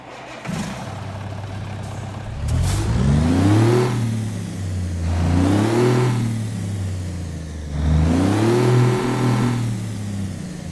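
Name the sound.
truck diesel engine from a video game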